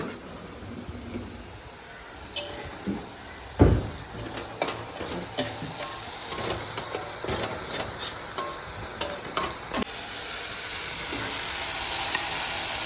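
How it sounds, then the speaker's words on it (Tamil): Frying in ghee in a pan, with sugar and ginger going into a drumstick biryani preparation: a steady soft sizzle broken by scattered ticks and clinks from a ladle against the metal, no talking. "நெய்யில் நல்லா வறுத்து எடுத்துக்கலாம் நல்லா வறுக்கணும்"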